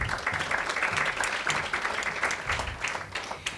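Audience applause welcoming a speaker at a legislative summit, dense steady clapping from a crowd filling the hall throughout, no voices over it.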